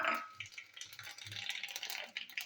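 Bay leaf, dried red chilli and cumin seeds crackle in hot oil in a pan, a close, brisk sizzle with a few low stirring knocks and no voices.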